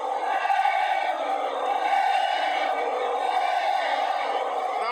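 A football stadium crowd at Liverpool versus Burnley, a broad, sustained roar of cheering fans that holds steady and loud throughout without breaks.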